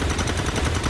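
Overwatch gunfire in the video game XCOM 2: a loud, dense burst of rapid automatic shots that fills the whole moment, with no talking over it.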